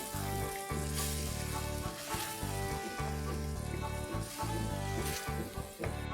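Cornstarch-thickened sauce for French fries bubbles on a high flame, a loud close sizzle and hiss broken by bursts of bubbling and stirring, with no talking.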